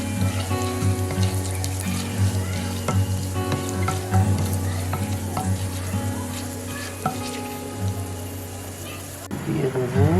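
Bay leaves, whole coriander and cumin sizzling in hot oil, with a loud, dense, steady crackle up close and a hum beneath, ending in a brief change of sound near the end.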